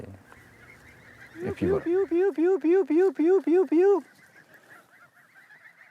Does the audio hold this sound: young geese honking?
yes